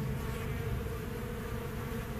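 Honeybees buzzing densely around comb inside a trailer, a continuous steady drone of many insects, loud and close with no pauses.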